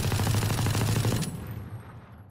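Rapid automatic gunfire in a video game, fired through a wall from a crouched stance, a loud dense burst for over a second that cuts off and leaves a fading echo tail.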